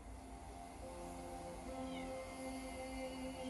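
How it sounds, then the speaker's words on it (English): A cat meows in the video game Copycat, a few short calls rising over a steady bed of game music and ambience at moderate loudness. "this one will meow at absolutely anything that moves"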